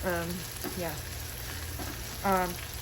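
A crowded pan of mushrooms fries with a soft, steady sizzle beneath a low background hum, broken by a few brief vocal sounds.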